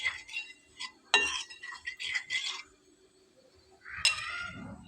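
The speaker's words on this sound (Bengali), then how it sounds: "তো গোলাটা একটু নেড়ে চেড়ে গুলে নেব।" A spoon stirs wheat-flour batter for a crispy snack, giving close, intermittent clinks and scrapes against the bowl in short bursts with brief pauses between.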